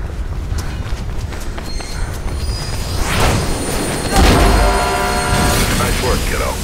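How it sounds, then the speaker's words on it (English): In Mirror's Edge, a subway train approaches through a tunnel as a swelling mechanical rumble, clattering and rushing louder toward the end, with a voice speaking over it. "There's a train coming behind you."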